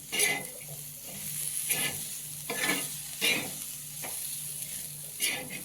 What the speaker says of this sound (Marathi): आता आपण एक दोन तीन मिनिट असं छान परतून घेऊ